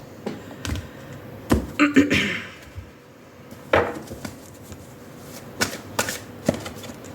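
A tarot deck is shuffled and cut by hand, with sharp card riffles and slaps in irregular bursts, close and crisp, separated by quiet pauses.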